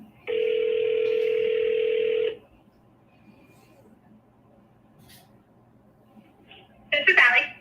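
A telephone dial tone for about two seconds while making a call, steady and loud, then a pause and a short burst of ringing or speech at the end.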